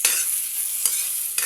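Bottle gourd and fried chicken are stir-fried in a pan, with a steady sizzle broken by three quick scraping stirs spaced evenly apart, close up and without talk.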